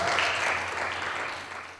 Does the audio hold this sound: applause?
yes